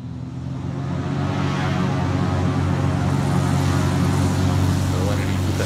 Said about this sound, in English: Short takeoff.